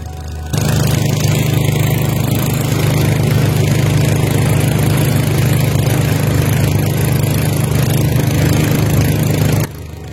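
A river boat's engine drones loud and steady on a river between two mountains in South Aceh, a continuous low motor hum starting abruptly and cutting off near the end, with no voices.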